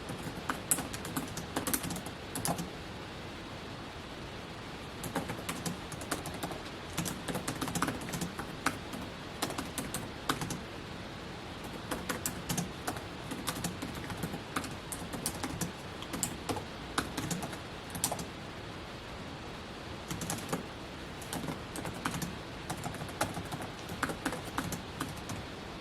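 Steady typing on a computer keyboard runs throughout, with rapid close key clicks in uneven bursts and brief pauses, no talk.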